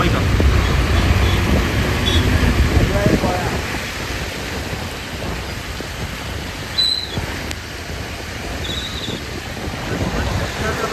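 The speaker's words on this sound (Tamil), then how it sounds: "ஃபுல்லாக மழைங்க." Heavy monsoon rain pours steadily during a Coimbatore red-alert downpour, a loud, dense hiss with low rumbling thunder rolling through the opening seconds, the roar continuing unbroken throughout.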